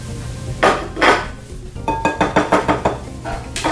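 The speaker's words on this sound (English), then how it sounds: "we're going to start by incorporating this butter into this sugar." Butter being beaten into sugar by hand for chocolate chip cookies, with a utensil knocking and scraping against a bowl: two dull strikes, then a quick run of rhythmic clinks close by.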